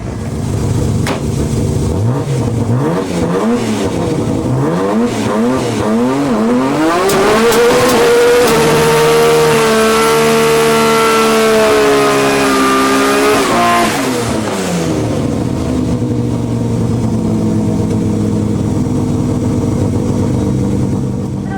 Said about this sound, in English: Doing a burnout in 5th gear gets the tyres really hot, but the smoke can be a bit of a problem.